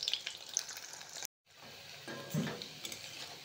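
Baby corn pieces fry in hot oil at home for chilli baby corn, a steady bright sizzle that cuts out briefly, then resumes with the faint clink of a utensil in the pan.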